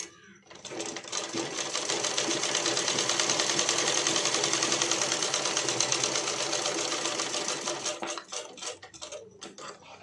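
A sewing machine stitches a blouse hem with a half-inch fold, running fast and continuously for about eight seconds before stopping and leaving a few light clicks.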